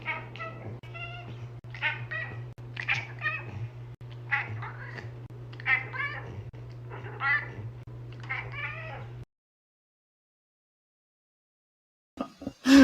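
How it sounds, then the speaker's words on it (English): A cat chirps and meows repeatedly at close range, short trilling calls in quick succession over a steady low electrical hum, then silence before a brief clatter at the end. "Something about cats just chirping like that."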